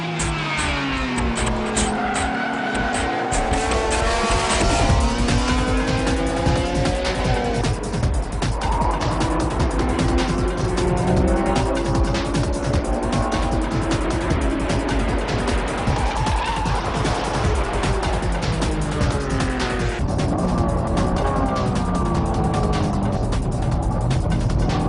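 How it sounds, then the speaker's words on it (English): A Honda NSX-R driven hard on a race track against slick-shod racing cars, engine roaring loud and continuous with rising and falling revs and tire squeal throughout, no talk. "For the Champions Battle, the NSX-R challenged racing cars using slicks."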